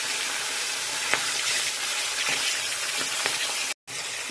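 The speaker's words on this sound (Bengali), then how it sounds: "মাছটা ভাজা হয়ে গেছে।" Fish fries in a pan with a continuous hissing sizzle and a few faint clicks. A brief gap of silence comes near the end.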